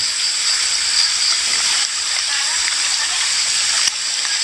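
Steady rushing of flowing mountain stream water, loud and close, with constant bright splashing throughout.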